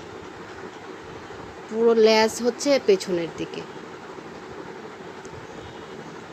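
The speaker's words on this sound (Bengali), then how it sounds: "এটার নিচেও একটা ট্রেন চলে, যেটা এই পাথরের ভেতর দিয়েই যায়।" A small amusement park train at Shishu Mela in Shyamoli, Dhaka, runs beneath an artificial dragon rock structure, giving a steady, moderately loud rumble throughout while someone speaks briefly over it.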